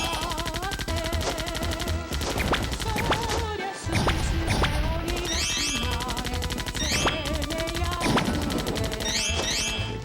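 Rapid machine gun fire from the Wii zombie shooter Zombie Panic In Wonderland, dense sustained bursts layered over busy game music and effects, loud throughout.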